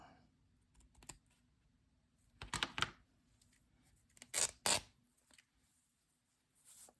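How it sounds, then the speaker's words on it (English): A piece of lace is ripped by hand in a quiet room, producing two or three quick, crisp tearing bursts with faint handling noises in between. "Do you ever rip lace?"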